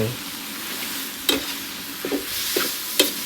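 Squid with holy basil leaves is stir-fried over medium heat in a pan: a continuous sizzle broken by four or five sharp spatula scrapes and knocks, with no speech.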